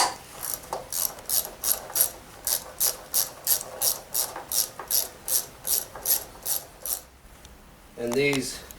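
Ratchet wrench backing out engine bolts during an alternator replacement on a 2004 Honda Odyssey, a close, loud run of rhythmic clicking bursts, about fifteen strokes, then a pause and a brief metallic rattle.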